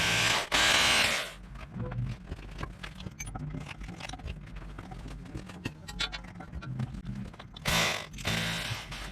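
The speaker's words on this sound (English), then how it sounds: "use a smaller drill just as a pilot hole" A power drill bores a small pilot hole while a shade sail is being installed, with two loud whirring bursts at the start and end and light clattering handling noise between them.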